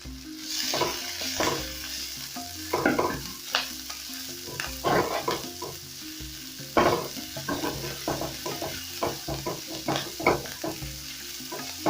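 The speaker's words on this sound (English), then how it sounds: "Then I'm going to fry this till they become translucent." Onions sizzle in hot cooking oil in a pan, a steady close frying crackle broken by frequent stirring scrapes and clinks of the utensil throughout.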